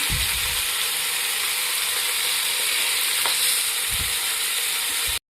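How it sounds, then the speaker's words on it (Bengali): Loud, dense sizzling of chicken frying over high heat, with a couple of low thumps from turning it, then abrupt silence. "হাই ফ্লেমে এভাবে চিকেনগুলোকে লাল লাল করে ভেজে নেব, এদিক ওদিক উল্টে পাল্টে।"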